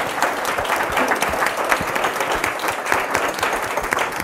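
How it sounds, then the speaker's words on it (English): An audience at a sports panel event applauds with steady, dense clapping that stays even and sustained for several seconds without a break. "Your round of applause."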